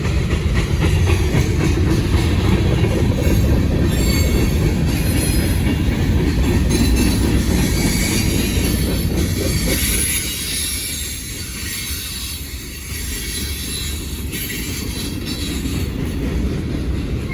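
A Norfolk Southern freight train led by two C6M locomotives and a G-Volt rolls past close by, a loud continuous rumble with rhythmic clickety-clack of wheels on rail and a faint wheel squeal, easing slightly toward the end.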